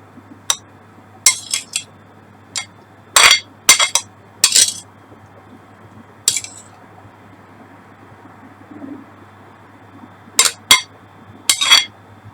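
Rice for Pakistani-style biryani stirred in a pot, with scattered sharp metallic clinks of the spoon against the pot in irregular bursts over a quiet background.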